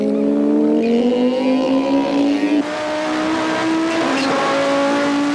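Two Audi race cars in the 1993 Wesbank Modifieds series run side by side at Goldfields circuit, their loud engines droning and shifting pitch as they power past together.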